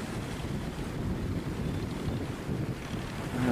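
Fishing boat with a Komatsu engine, a steady low engine drone mixed with wind buffeting the microphone and water noise, continuous and fairly loud, no speech.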